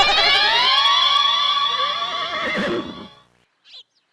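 A small cartoon horse lets out a loud, bright whinny with wavering, descending harmonics that fades after about three seconds, followed by a brief faint sound.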